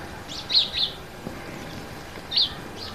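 Small birds chirp in a garden, giving a few short, bright tweets in quick clusters over a faint outdoor background hum.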